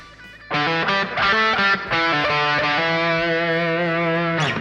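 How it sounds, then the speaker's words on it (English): An Epiphone Old Glory electric guitar with a single pickup, played through distortion: a few choppy chords, then a long sustained chord that rings out while its tone gets darker, ending with a brief bright scrape. "the tone knob basically allows you to get a wider variety of tones"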